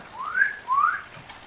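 Pigs in the farming game Farming Simulator 15 give two quick rising whistles, close and clear, one after the other over a faint hiss, with no talking.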